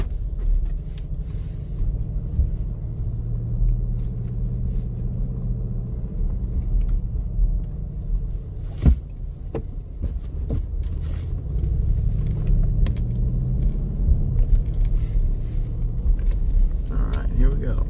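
A car driving on the road, a steady low engine and tire rumble that fills the whole stretch, with occasional clicks and knocks inside the cabin.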